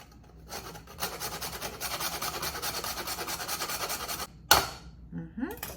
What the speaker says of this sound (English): I'm gonna grate a little bit of nutmeg right in here.